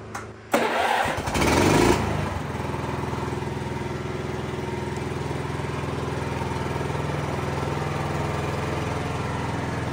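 An 1980s Honda 3011 riding mower engine cranks and catches with a brief loud rev. It then settles into a steady, close, even idle that runs alone for several seconds.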